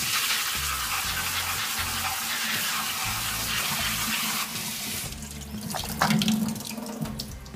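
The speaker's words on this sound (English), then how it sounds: "Give it a quick rinse." Frozen corn rinsed under a running kitchen tap for chili, a steady close rush of water that thins after a few seconds into lighter splashing and a few clinks.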